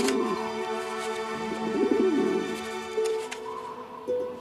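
A carrier pigeon coos in low, rolling phrases, repeating several times over a steady tonal background with faint music-like hum.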